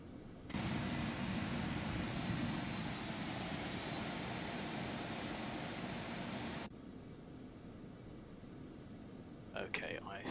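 Simulated Aerobask Phenom 300 business jet taxiing in X-Plane 11, a steady broad engine roar that cuts down to a quieter hum partway through, with brief faint chirps near the end.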